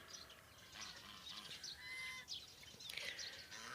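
Young chickens newly moved outdoors into a farmyard give faint, high chirps and peeps over a soft outdoor hiss, scattered and distant, with no talk.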